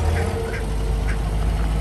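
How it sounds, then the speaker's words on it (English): Ducks quacking outdoors near a park on a busy city street in Helsinki on May Day Eve, with a few faint quacks mixed under loud, constant crowd and traffic noise. "And the American ducks over there on the left behind the toilets."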